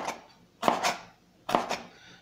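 Two sharp knife strokes chop bell pepper on a cutting board, each a crisp double thunk close to the mic with a quiet pause between, no speech.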